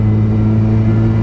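A supercharged Mazda MX5 NA engine pulls steadily while driving on a road, a loud, continuous mid-pitched drone with strong steady harmonics and no talk over it.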